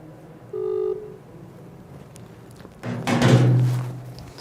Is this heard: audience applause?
no